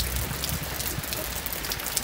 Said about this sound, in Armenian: քանի որ անձրևը մի քիչ հացել ա